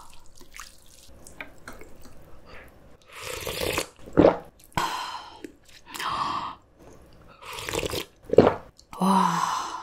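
Someone eats janchi guksu, a banquet noodle soup, with spicy kimchi up close. Wet slurps and crunchy chewing come in several bursts separated by short pauses, with no talking.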